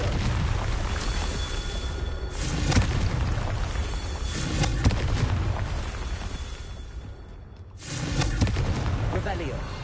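Explosive spell blasts from the video game Hogwarts Legacy, a continuous roar of booming bursts and rumbling impacts with a short lull before another loud blast, a voice talking underneath.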